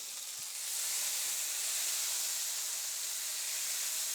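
Butter sizzling in a hot pan before burgers go in, a continuous soft hiss with crackly texture after a brief quiet start, fairly faint and steady with no talking.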